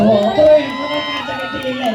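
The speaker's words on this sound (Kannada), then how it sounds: "ನೀವು ನಿಮ್ಮ ಹುಡುಗ ಕಡೆಯಿಂದ ಚಪ್ಪಾಳೆ ಹೊಡ್ತೀರಿ" Audience at a Kannada stage show in Hosapete cheering and shouting together, a dense, steady roar of voices with whoops rising briefly near the start and sustained throughout.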